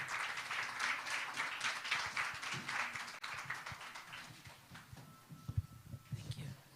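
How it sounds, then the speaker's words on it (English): An audience at a women's summit applauds a speaker: dense, steady clapping for about three seconds that thins into scattered claps and faint murmuring. "Let's give her a round of applause."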